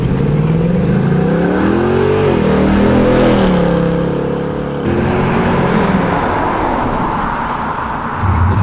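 A 460-horsepower Ford Mustang muscle car engine revving and accelerating: loud, close engine note that climbs and swoops through several rising pitches, eases briefly, then continues as a steady powerful drone.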